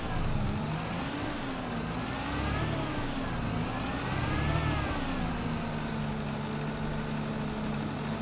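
A tractor engine in Farming Simulator 22, pulling a baler, revs continuously and loudly up close, its pitch rising and falling as it shifts gears, with no talking.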